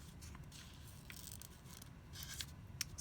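Paper being torn by hand for a scrappy craft notepad, a few soft, close rips and rustles, with a sharper tear near the end and no talking.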